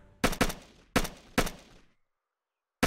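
Four sharp, loud gunshots ring out in quick succession in the military shooter ARMA: Red Hammer, each with a short decaying tail, followed by a silent pause and then a final shot at the very end.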